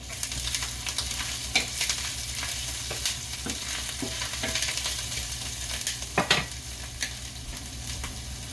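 Ginger and garlic sizzle steadily in a hot pan on turned-down heat, a dense close frying hiss with occasional soft stirring clicks and pops, no voices.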